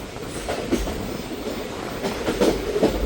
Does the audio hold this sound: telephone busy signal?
no